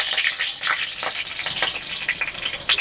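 A slit green chili stirred in a hot frying pan sets off a dense, loud, continuous sizzle with crackling spatters throughout.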